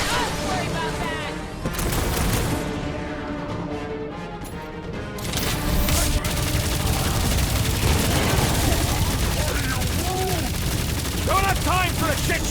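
Rapid bursts of gunfire crackle with crashing impacts during combat in Marvel's Guardians of the Galaxy on PS5. The shots come dense and loud, layered over music and voices throughout.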